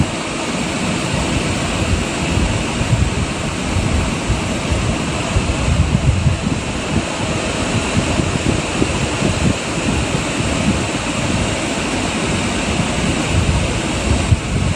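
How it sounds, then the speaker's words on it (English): Strong hurricane wind from Hurricane Melissa tearing across Jamaica, a continuous loud roaring rush with gusty swells and buffeting against the microphone, steady for the whole stretch with no voices. "No, you hear the wind, man."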